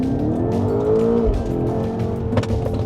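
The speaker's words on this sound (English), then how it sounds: "The power coming in with that great surge of sound makes it more enjoyable than an EV." A 2024 BMW X5 SUV floored from a standstill, its engine note rising in a steady loud surge of revs with a brief dip and pickup as it gears through, close and continuous with no talk.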